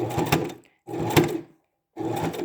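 A sewing machine runs in three short bursts of stitching to backstitch fabric for a round scrunchie fabric bin, each burst a dense whirring chatter lasting about half a second, separated by brief pauses, close and clear.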